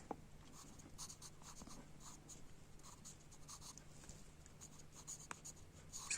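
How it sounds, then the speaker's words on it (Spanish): Pencil sketching on paper, drawing bonsai leaves such as maple leaves and pine needles: a close, steady scratching of graphite with short repeated strokes and brief pauses, no voices. "para ir dibujando hojas de arce"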